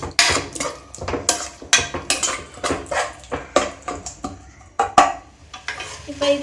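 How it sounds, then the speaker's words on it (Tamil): Paneer biryani masala stirred in a pan with a spoon, giving repeated scraping clatters at a steady rhythm, close and fairly loud, with a light sizzle underneath and no talking. "ஊற்றிட்டு இதை நல்லா மிக்ஸ் பண்ணிக்கலாம்"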